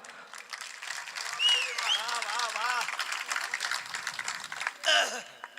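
Scattered audience clapping at a Hindi poetry recital, a steady patter of hands that swells twice, with a voice speaking over it.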